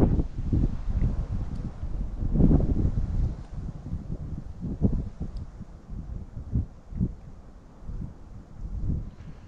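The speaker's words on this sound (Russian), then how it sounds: "Ветер сильный дует." Strong winter wind buffets an open-air ice-fishing spot in a steady low rumble of gusts that swell and fade, with no talk.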